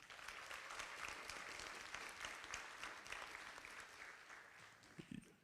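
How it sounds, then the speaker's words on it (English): A graduation crowd claps steadily for the graduates, a dense, even wash of applause at moderate distance, holding throughout and starting to thin at the very end. "you deserve an additional round of applause"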